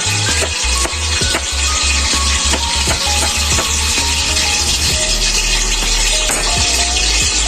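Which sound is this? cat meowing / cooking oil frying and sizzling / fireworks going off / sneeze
cooking oil frying and sizzling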